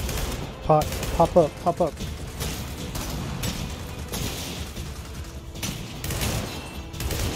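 Gunfire in the video game Gears of War 4, with bursts of rapid shots early on followed by continued sporadic firing and battle noise mixed with voices talking.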